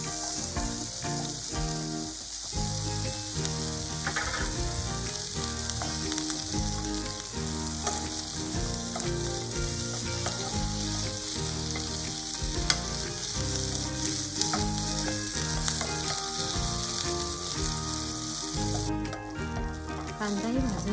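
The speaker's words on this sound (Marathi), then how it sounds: "त्याच्यात आपण आता कांदा भाजून घेऊया." Onion roasts in a pan for vada misal, a Maharashtrian dish, giving a steady sizzling crackle with occasional stirring scrapes, moderately close and without talk.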